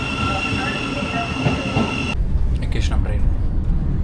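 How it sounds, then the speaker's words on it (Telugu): Rumbling train ride on a London rail line, with a steady low roar of the carriage that grows rougher and louder partway through as the wheels clatter, and faint voices in the background. "ఎక్కేసినాం ట్రైన్."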